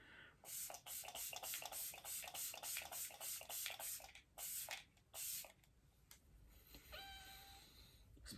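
e.l.f. Stay All Night setting spray gives a light mist in a rapid run of short hissing bursts, roughly a dozen quick pumps close by. The sound is soft overall and ends in a quieter stretch.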